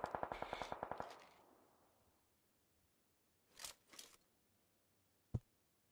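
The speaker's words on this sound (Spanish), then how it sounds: "Escucho disparos." Rapid burst of automatic gunfire in a video game, about ten close, loud shots in quick succession, followed by a few scattered single shots and a sharp final report against near silence.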